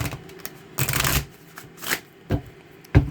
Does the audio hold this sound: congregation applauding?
no